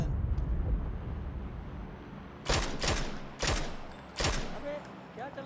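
SKS rifle gunfire in the video game PUBG, three sharp, evenly spaced shots that ring out after a stretch of low ambient rumble, moderately loud and close.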